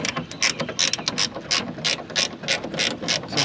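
A ratchet clicks rapidly and continuously while loosening a 10mm bolt holding the window to the regulator inside a Jeep XJ door, a close, loud run of mechanical ticks in quick bursts with no talking.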